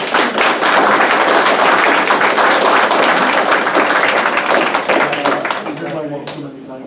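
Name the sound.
round of applause at banquet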